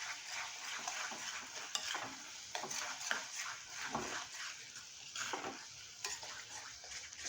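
Masala with red chilli powder for a green peas kheema being sautéed and stirred in a pan, a steady close sizzle with repeated spoon scrapes and stirring strokes throughout, no talking.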